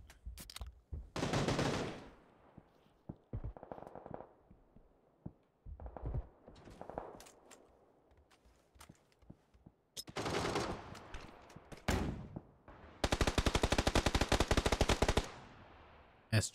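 S12K shotgun fire in the battle royale game PUBG during a pro scrim: bursts of loud, rapid shots come in several clusters, separated by short quiet gaps and isolated single reports, with the heaviest sustained volley near the end.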